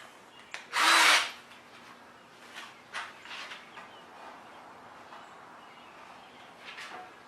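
Power drill chamfering screw holes in wood: a short loud whirring burst near the start, then several fainter brief drill touches and rubbing, close by with no talk.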